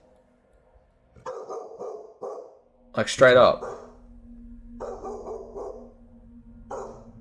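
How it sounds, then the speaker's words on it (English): A dog barks at something off to the side, a single sharp, fairly loud burst standing out from quieter recorded sounds, while people talk around it. "The dog's barking at something else."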